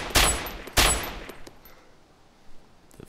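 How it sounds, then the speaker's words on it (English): Two loud, close high-caliber gunshots about half a second apart in the video game DayZ, each with a decaying echo, followed by faint scattered distant reports. "it sounds like high caliber fire"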